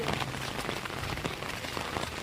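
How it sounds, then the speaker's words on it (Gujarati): Steady rain patters on a surface, a dense continuous hiss of drops with no other sounds. "વરસાદ તો ચાલુ જ છે"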